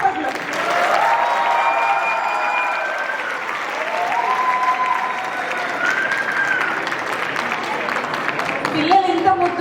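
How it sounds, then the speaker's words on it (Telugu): A live audience applauds after a children's performance at a stage program. The clapping is continuous and fairly loud, with some cheering in the crowd and voices talking over it. "చేసిన పిల్లలకి, ఈ పిల్లలతో చేయించిన వాళ్ళ గురువులకి మళ్ళొకసారి గట్టిగా చప్పట్లు."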